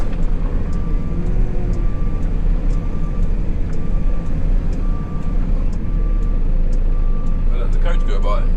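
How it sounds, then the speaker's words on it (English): A coach bus drives past on a busy rural road by a farm, a loud broad engine rumble and road roar that holds steady throughout, with a person talking over it. "Get in here out of the way of the bus."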